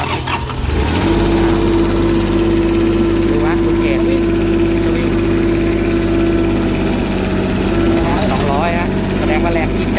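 A mini excavator's engine runs loud and steady, revving up during a hydraulic pressure test with a sustained strained tone, while people talk over it.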